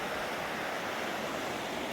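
Ritter Creek flows steadily, a continuous broadband rush of water, loud and close, with no voices over it.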